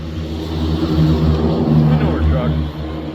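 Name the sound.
manure truck driving by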